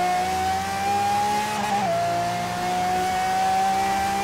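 A steady high-pitched engine of a 2016 Aston Martin Vulcan racing car in Forza Horizon 3 drones continuously, its tone dipping slightly midway as it shifts, loud and close with no talking.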